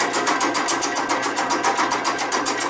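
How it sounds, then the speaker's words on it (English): A power tool trims the edge of an old factory alloy engine case, clearancing it for a brass fitting, with a loud, close, fast rhythmic chatter pulsing evenly over a steady motor whir. "Now we've got this tool that's going to cut the edge of the case to clearance it for a brass fitting"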